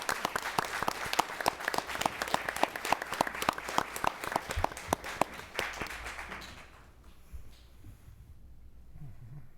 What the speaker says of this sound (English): Let's have another round of applause for these wonderful students.